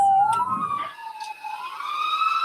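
Police car sirens wail loud and close during a car chase, a continuous rising and falling tone with overlapping sirens and road noise.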